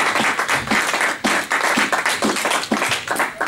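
A church congregation claps in a steady rhythmic beat, with many hands close and loud, keeping a regular pulse throughout.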